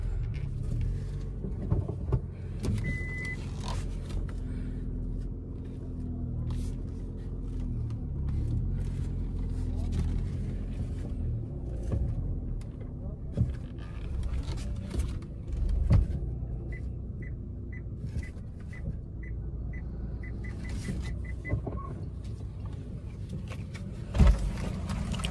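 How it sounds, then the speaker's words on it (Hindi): A car's engine runs steadily while driving, a low continuous rumble with road noise throughout, and a few faint clicks and a brief knock near the end; no one talks. "चलिए गाड़ी स्टार्ट करते हैं"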